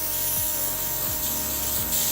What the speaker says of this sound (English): I'm going to turn on my compressor, pull back on the trigger just slightly,